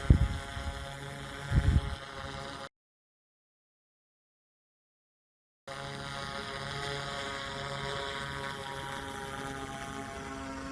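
A V Copter Falcon drone powers up for takeoff with a steady, tonal motor whine and hum. A few knocks come first, then several seconds of silence, then the even buzzing resumes.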